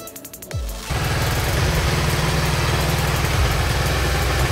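A motorcycle engine starts with a brief cranking burst and then idles in first gear, a steady close-range rumble, during chain cleaning at home.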